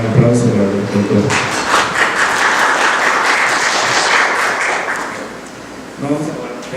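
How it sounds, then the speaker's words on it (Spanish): Audience applauding a doctor at a medical talk: a voice speaks briefly, then dense clapping swells and holds for several seconds before tapering off as the speaker resumes. "Démosle un gran aplauso al doctor."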